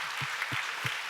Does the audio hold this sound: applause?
yes